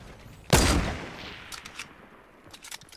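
A single loud, close gunshot in the Fortnite video game rings out and decays, followed by a few fainter distant pops.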